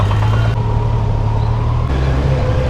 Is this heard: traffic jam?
yes